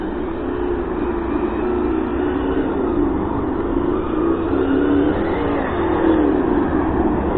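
A Hobao Hyper GT-B RC car on a 6S Mamba Monster X setup with an ESS sound module, its motor revving steadily and loudly throughout, close by with no talk.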